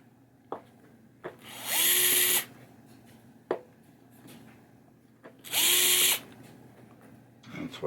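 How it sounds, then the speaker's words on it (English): A power screwdriver drives screws into the slingshot assembly of a 1986 Gottlieb Hollywood Heat pinball machine, in two short whirring bursts, close and loud, separated by sharp knocks and handling clatter. "I have to move it to put these screws in."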